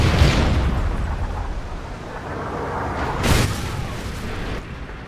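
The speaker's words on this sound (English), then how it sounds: "Friendly Trinity rocket inbound." A Trinity rocket strike lands in Call of Duty Ghosts multiplayer with a heavy, rumbling boom, followed by a sharper blast a few seconds later amid continuous battlefield noise.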